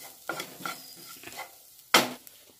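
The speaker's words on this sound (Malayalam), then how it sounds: "മല്ലിപ്പൊടിയിൻ്റെ ഒക്കെ ഒരു പച്ചമണം മാറുന്ന വരെ ഒന്ന് ഇങ്ങനെ മാറ്റി കൊടുക്കുക." Coriander powder with turmeric frying in a pan for an egg pepper roast is stirred in a few soft scraping strokes with a faint sizzle, followed by one sharper scrape, quiet and close with no voices.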